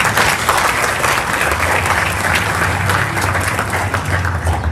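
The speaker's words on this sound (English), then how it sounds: "Let's have a round of applause for our track and field team." An audience at a school end-of-year ceremony claps for the track and field team, with loud, sustained and dense applause throughout.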